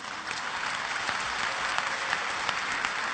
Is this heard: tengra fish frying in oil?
no